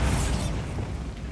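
A Bombarda blasting spell from Hogwarts Legacy goes off as one close, loud, broadband blast that decays over about a second into a rumbling tail, with no talk.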